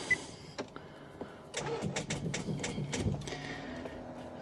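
Wrecked Nissan Rogue being started in a cold garage: a few faint clicks, then the engine cranks and catches, giving a rough, uneven mechanical churn nearby.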